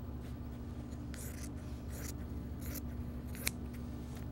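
Scissors cut through denim fabric for a country apron, several crisp close snips spaced irregularly over a steady low hum.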